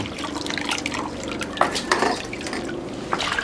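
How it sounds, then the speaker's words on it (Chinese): Water drains from freshly rinsed loaches in a kitchen, a close, soft trickle broken by scattered drips and light clinks for a few seconds. "好了，给它控一下水。"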